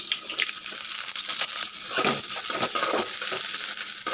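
Garlic cloves and chopped onion frying in a pan, a steady, dense sizzle that hisses continuously and fairly loud from start to finish.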